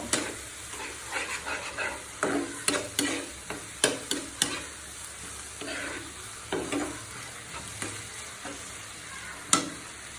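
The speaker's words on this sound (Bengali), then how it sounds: "আমি একটু সময় নিয়ে এটা ভেজে নিব।" Eggplant frying in a pan for an eggplant bharta, with a soft background sizzle broken by repeated scraping and stirring strokes in an uneven rhythm, close by and with no talk.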